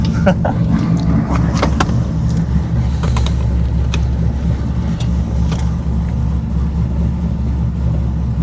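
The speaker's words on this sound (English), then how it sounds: "Give the Vette a little cold start on this beautiful Monday morning." A cammed Chevrolet C5 Corvette engine runs after a cold start in a garage, a deep steady lumpy idle close by, with light clicks and knocks over the rumble.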